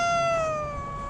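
A single drawn-out cat meow, close and clear, with a slightly falling pitch and no talking.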